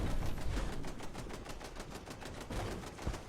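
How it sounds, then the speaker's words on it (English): Automated turrets in the Fallout 76 video game unload a dense, continuous burst of rapid gunfire, dozens of shots packed together at a steady, loud rate with a few heavier thumps, no talking. "the turrets are firing all the shots that they shot when I wasn't here all at once"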